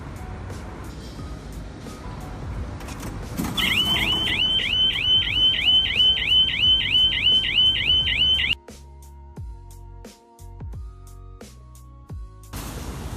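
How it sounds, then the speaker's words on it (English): An RT-EG02 electric bike GPS tracker sounds its vibration alert, a loud repeating electronic chirping alarm pulsing at a steady rhythm for several seconds before cutting off abruptly, leaving quieter beeps and background noise. "Now we are going to show you the vibration alert."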